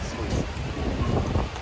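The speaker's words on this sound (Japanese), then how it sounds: "雨がすごいです。" Heavy rain pours in a dense, steady wash with a low rumble beneath, loud and continuous over a short stretch.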